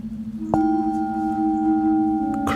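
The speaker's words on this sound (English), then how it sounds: "So a modern bowl sounds like this." A modern singing bowl is struck once, giving a crisp, clean tone with stable overtones that rings on steadily and loudly, close up, before a second light strike near the end.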